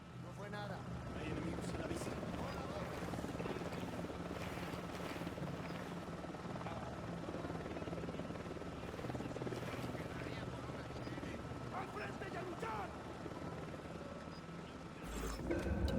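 An Unidad patrol helicopter in Ghost Recon Wildlands drones steadily for the whole stretch, its rotor hum constant and moderately distant under ambient game noise, with no break in the sound.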